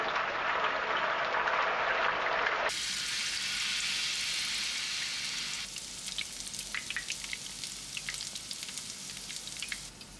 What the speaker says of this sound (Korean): 두부는 앞뒤로 노릇하게 튀겨주세요